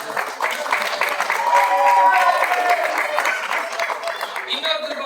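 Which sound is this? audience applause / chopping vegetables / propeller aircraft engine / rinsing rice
audience applause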